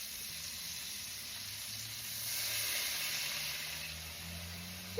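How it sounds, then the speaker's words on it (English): Pork chops in a lidded pan with a little water and butter over low heat, giving off a steady, even steam hiss and sizzle that swells slightly midway, with no talking. "I'm going to put a lid on to steam them."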